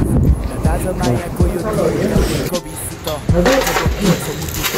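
A tractor engine runs steadily beneath a rider on a rural outing, a loud, continuous low mechanical rumble throughout with people talking over it.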